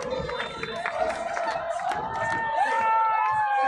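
Stadium crowd at an SMU versus UCF soccer match cheering and shouting after a goal, a broad roar of voices with scattered clapping that swells toward the end, a commentator talking over it.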